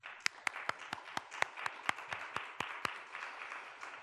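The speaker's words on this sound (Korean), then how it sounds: "다 같이 박수 한번 하겠습니다" A church congregation claps together during a Sunday worship service, sharp distinct claps standing out at a steady rhythm over a softer bed of scattered clapping from the room.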